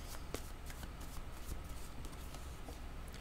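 Playing cards being shuffled by hand before a card is drawn in a tarot-style reading, a steady papery riffle of soft flicks and rustles, close and fairly quiet, with no one talking.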